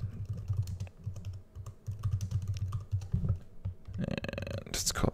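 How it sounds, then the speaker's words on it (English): Typing on a computer keyboard while filling in fields in an RStudio add-in, a steady run of close, quick key clicks with a brief pause, ending in a short burst of brighter clicks. "So I can type out my name, the date,"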